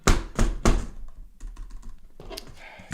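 Three hard bangs on a computer keyboard come first, then a spell of quicker, lighter typing and tapping, all close and with no talk.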